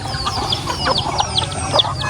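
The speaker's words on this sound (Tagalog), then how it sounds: "So yung mga manok pabo namin, meron tayo dito." Free-range chickens and turkeys on a farm cluck repeatedly nearby, a busy overlapping run of short, chattering calls.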